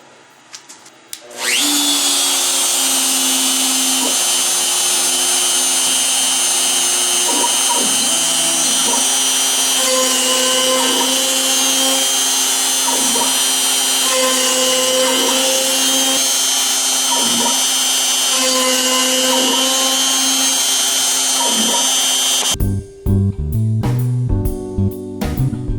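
An X-Carve CNC machine drills rows of holes in a wooden cribbage board, a loud steady high whine with brief regular dips as the bit plunges into each hole, then the motor cuts out abruptly near the end.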